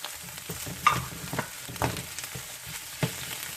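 Shrimp paste added to garlic and finely chopped lemongrass frying in a pot for Vietnamese Bun Bo Hue, a soft continuous sizzle broken by several scattered clinks and scrapes of stirring.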